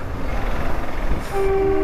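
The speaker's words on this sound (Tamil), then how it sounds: "மேலே இப்போ ட்ரெயின் போகுது பாருங்க" A toy train runs on a hill railway near Shimla, a low rumbling passage from the roadside. A steady tone-like horn or wheel squeal enters near the end over the background noise.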